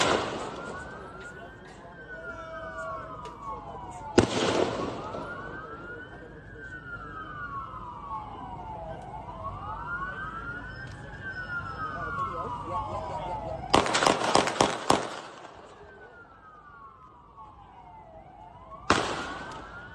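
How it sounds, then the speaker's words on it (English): At Bondi Beach, police sirens wail in a repeating rise-and-fall pattern throughout while sharp gunshot bursts crack out in three loud clusters, near and echoing. "That was definitely police shooting then."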